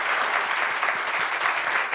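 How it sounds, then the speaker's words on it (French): Studio audience applauding a guest on a French talk show, a steady wash of clapping hands throughout, fairly close and unbroken, with no speech over it. "On applaudit pour elle, s'il vous plaît."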